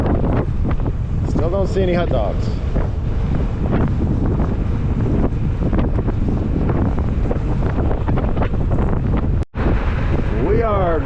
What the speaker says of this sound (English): We are going into the wind. It is a windy day here.